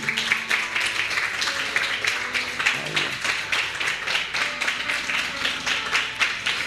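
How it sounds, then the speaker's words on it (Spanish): Church congregation claps together in a quick, regular rhythm, the beats repeating evenly for several seconds over a faint tonal background. "¿Cuánto aplauden al Señor por eso?"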